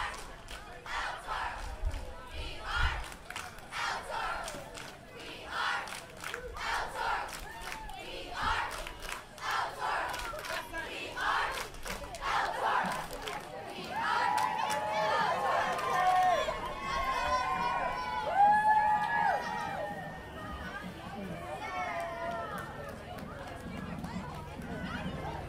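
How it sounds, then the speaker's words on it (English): El Toro High School pep squad cheering and chanting along a Fourth of July parade route in Lake Forest, a loud crowd of young voices shouting in bursts, with chatter and whistles around them throughout. "the El Toro High School pep squad making some noise"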